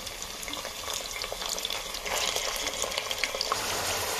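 Chicken frying in oil with onions in a cooker, a steady bright sizzle with crackles and small pops that grows a little louder partway through, no talking.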